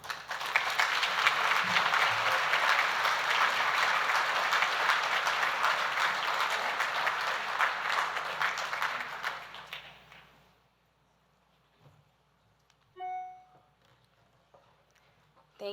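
A conference audience gives a welcome with steady, loud applause for about ten seconds, which fades out, followed by a few faint thumps and a brief tone.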